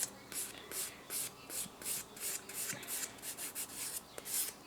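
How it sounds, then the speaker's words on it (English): Fine-grit nail file buffing a fingernail after gel polish removal, a steady run of quick, soft rasping strokes close up, alone with no talk. "So I'm just going to take the fine grit again, just go over my nail."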